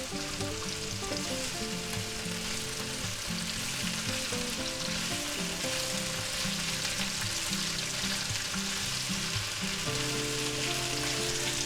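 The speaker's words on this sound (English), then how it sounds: "I'm just going to go ahead and fry them up" Peppers fry in a pan for a Chicago-style peppers and egg sandwich, a loud, continuous sizzle broken now and then by stirring, with no voices.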